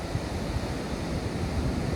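Ocean surf breaks on the shore at Gerroa, New South Wales, a steady, loud, washing roar with some wind buffeting and no voices.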